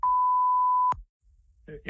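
Censor beep, a single steady electronic tone lasting almost a second that cuts off abruptly, followed by a short silence and then the start of a voice.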